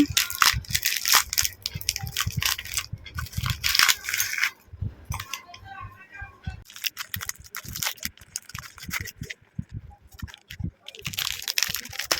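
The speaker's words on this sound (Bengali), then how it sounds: "ফার্স্টে আমি বিস্কুটগুলো এক এক করে কেটে বলে নিয়ে নেব" Oreo biscuits are broken and crushed by hand into a bowl, giving repeated crunching and cracking bursts, some louder and some softer, with brief pauses between them.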